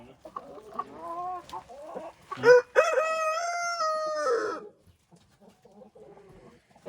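A chicken clucks and then lets out a long, loud drawn-out call, with quieter clucking and murmurs before and after, close by.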